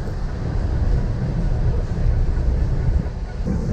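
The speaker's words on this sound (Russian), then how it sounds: "Повезло мне, в новой электричке еду." A new electric commuter train rumbles steadily, heard from inside the carriage as a loud, continuous low-pitched roll with faint rhythmic rail noise and no talking.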